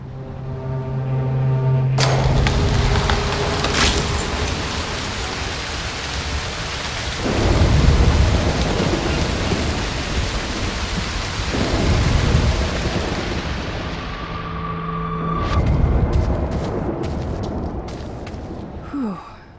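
Thunderstorm with heavy rain in the video game Broken Pieces: a dense, steady rain wash under several deep rolling thunder crashes that swell and fade across the scene, loud and close, with no voices.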